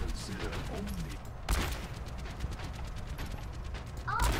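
Gunfire in the Overwatch shooter game, several sharp shots standing out at intervals over a dense, steady background of game noise and effects.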